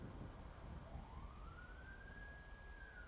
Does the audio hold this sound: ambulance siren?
yes